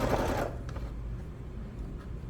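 A sewing machine stitches pajama pants fabric in a short low whirring burst at the start, then fades to a quiet hum with faint mechanical ticks.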